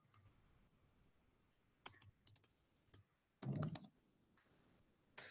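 C program code typed on a computer keyboard, quiet scattered key clicks followed by a short fast burst of typing and a final tap, with a faint background hiss.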